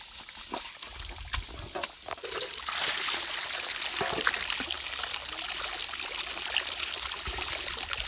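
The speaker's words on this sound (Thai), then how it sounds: "น้ำไหลออกมา" Steady trickling water runs throughout, a close, continuous splashing flow with no voices.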